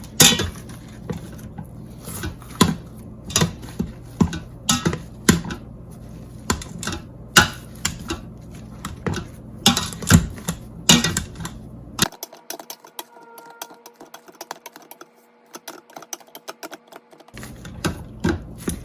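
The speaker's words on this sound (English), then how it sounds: "I'm gonna go ahead and mash my potatoes." Steamed potatoes being mashed in a pot with a handheld masher, a quick run of sharp clacking and squishing strokes that stops partway, leaving a quiet kitchen hum before the mashing briefly resumes.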